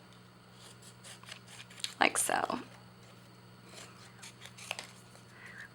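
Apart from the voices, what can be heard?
scissors cutting paper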